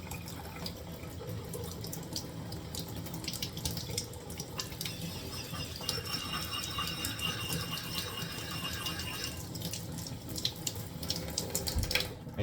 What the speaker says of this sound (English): I typically do this under running water.